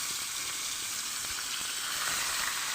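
A rohu fish frying in plenty of hot oil on a tawa, hissing in a steady, close, bright sizzle with faint pops and no voices.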